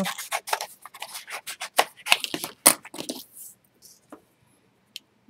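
Scissors snipping around a photo for a scrapbook album, a quick run of close, crisp cuts that slows to a few isolated snips and then stops.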